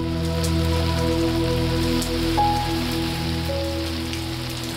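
Steady rain pours down at a wet, buggy brook trout river in Northern Ontario, a constant close hiss with no one speaking, accompanied by a low steady hum and a few brief tonal chirps.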